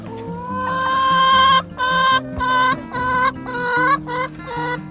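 Several guinea fowl cluck and call together nearby in a coop, a dense, repeated chorus of bright, clipped cries with no voices.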